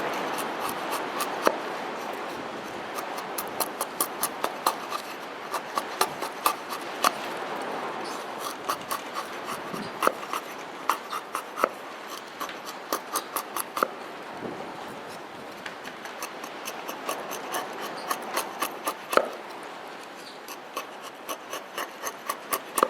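A knife carving shavings from a single wooden stick to build a fire-starting pile, a steady close scraping and rasping run of repeated strokes with no talk.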